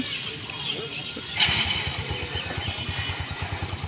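A motorcycle engine with electric self-start turns over and catches, settling into a steady close idle with a rapid putter.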